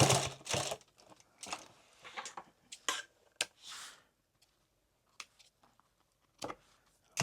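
A sewing machine stitches a rifle magazine pouch in short, uneven bursts of rapid clatter separated by quiet gaps, close and fairly loud.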